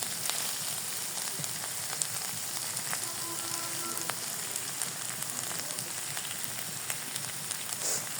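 Bitter gourd frying with taki fish in a pan gives a steady, even sizzle and crackle throughout, with faint scattered pops and no voices.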